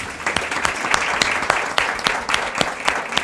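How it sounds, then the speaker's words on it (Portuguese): An audience claps for athletes in a steady, dense round of applause with sharp individual claps standing out, loud and close throughout. "Muito obrigado e palmas para os atletas e sorte para nós no Rio"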